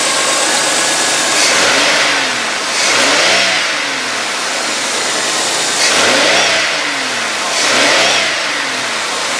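A 2001 Buick Park Avenue engine revs up and down under throttle in four loud, rising-and-falling sweeps over a steady idle, with no talking.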